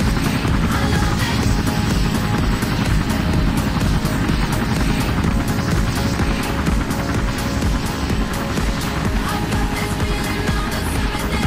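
A helicopter in the Minecraft video game flies with a dense, steady rotor roar and rapid chopping pulses that stay loud and unbroken throughout.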